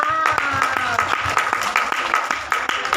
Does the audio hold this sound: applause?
yes